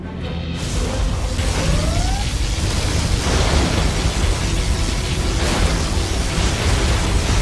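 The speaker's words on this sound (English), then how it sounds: "Particle cannon activated." A particle cannon blast from the Command & Conquer Generals Zero Hour strategy game: a loud, sustained roaring rumble with a crackling, crashing texture that runs steadily through the whole stretch, with no voices.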